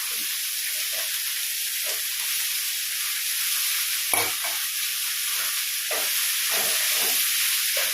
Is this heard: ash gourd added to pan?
yes